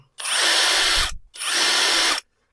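A cordless STR ST770 impact wrench runs in two loud, steady bursts of about a second each with a short gap between them, its gearing giving a smooth, fairly quiet mechanical whir close to the mic.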